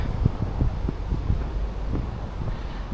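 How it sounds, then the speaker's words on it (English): Low, rumbling wind buffets the microphone in uneven gusts on a walking path from Bowness to Ambleside, a steady roar with thumping bursts, no voices. "Very windy"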